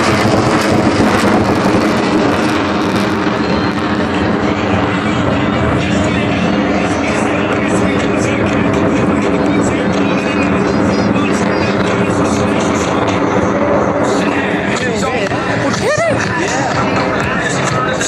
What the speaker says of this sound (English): Lieutenant Chamberlain is approaching to demonstrate the maximum performance turn radius of the F-18